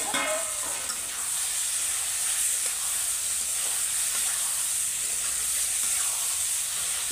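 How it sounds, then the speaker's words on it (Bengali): Fresh vegetables, including eggplant, fry in a pan with a steady, loud sizzle and hiss throughout, while a utensil stirs them now and then. No one speaks. "এমনিতে তাজা সবজি খুব বেশি কষাতে হবে না, তো 2-3 মিনিট এরকম ভেজে দিচ্ছি"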